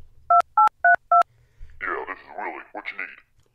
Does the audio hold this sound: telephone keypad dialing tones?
yes